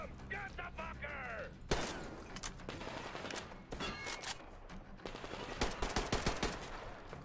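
Gunfire in the video game Metro Exodus, with loud close shots and rapid bursts, some in quick clusters, over a busy combat background.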